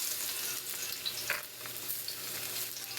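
Garlic frying in a hot pan for pansit Ilocano, giving a steady, close hiss of crackling oil with a few stirring scrapes and no voices.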